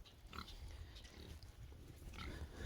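Pigs on a farm, faint grunts and snuffling scattered through a quiet outdoor background with low rumbling noise.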